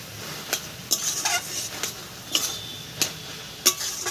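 Taro leaves with slit green chilies are stirred in a pan, a utensil striking and scraping the metal in distinct knocks about every half second over a low sizzle, close and without speech.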